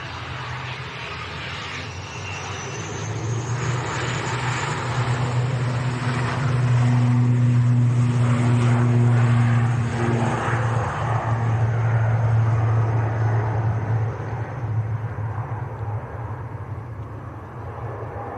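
A Royal Air Maroc airliner at Manchester Airport gives off a loud, sustained engine roar that swells to a peak midway and holds steady, heard from a plane-spotting position without talk.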